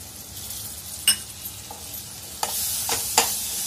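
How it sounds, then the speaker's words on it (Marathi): Ground spice paste for egg curry frying in hot oil in a pan, a steady soft sizzle with a few stirring scrapes and clinks on top, close and without voices. "छान परतून घ्यायचं आहे आपल्याला तेल सुटेपर्यंत।"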